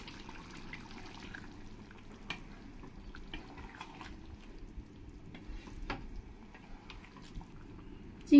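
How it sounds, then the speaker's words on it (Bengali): Prawns going into a pan of simmering jackfruit curry on the stove, giving a faint bubbling sizzle with light drips, small knocks and stirring sounds over a low steady hiss. "এবার আমি এই চিংড়িগুলো দিয়ে দেবো।"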